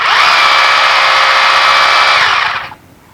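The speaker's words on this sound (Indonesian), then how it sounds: "kita udah bisa mengebor kayu atau besi" Cordless hammer drill from a budget Hujia set running steadily under power with a constant whirring whine for about 2.7 seconds, then cutting off abruptly into near silence.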